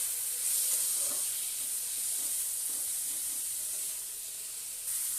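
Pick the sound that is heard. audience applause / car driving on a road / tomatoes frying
tomatoes frying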